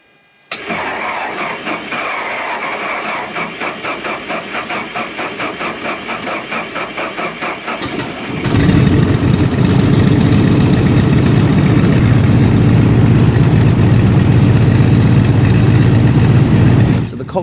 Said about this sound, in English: we fired up that 11-litre 7-cylinder radial